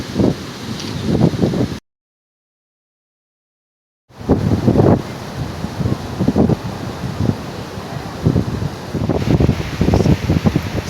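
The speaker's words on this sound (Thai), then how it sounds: "วันนี้บรรยากาศดีลมแรง" Strong wind at Mae Ramphueng beach in Rayong roars across the microphone in loud, gusty bursts. Part of the sound drops out completely for about two seconds before the buffeting resumes.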